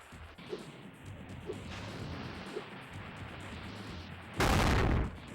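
A sudden loud explosion bursts in the PS1 game Spyro: Year of the Dragon, a short broadband blast lasting under a second after quieter thumps and background game ambience.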